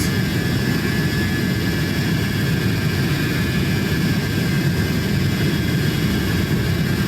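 MD-82 jet engines in a flight simulator, a steady, loud broadband roar with a high whine running unbroken throughout, no talking.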